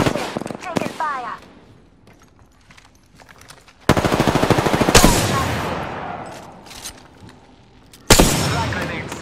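Rapid automatic gunfire in the Apex Legends battle royale game, with dense sustained bursts and sharp single shots, loud and close, alternating with quieter stretches and an in-game voice callout.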